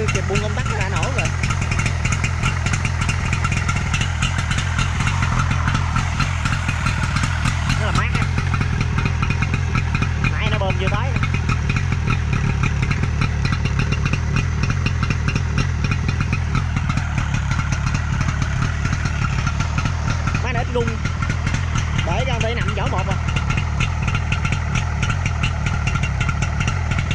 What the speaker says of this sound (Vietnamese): Rồi mình nổ máy này cái nào trước khi kết clip anh.